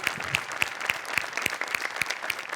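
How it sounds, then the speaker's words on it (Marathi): A studio audience claps warmly at a Marathi television show, a dense, even round of applause that carries on steadily with no break. "एकदा जोरदार टाळ्या पुन्हा एकदा"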